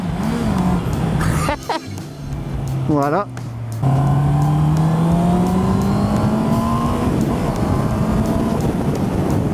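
A 2019 Honda CB650R motorcycle on its stock exhaust while riding in poor weather, a steady loud engine drone rising in pitch as it accelerates, with wind rush throughout and a brief spoken word partway through.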